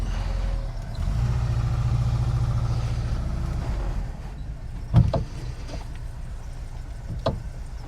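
A Volkswagen Vanagon engine idles with a low steady rumble while the van is backed up, followed by a couple of sharp clunks and knocks from the gear linkage.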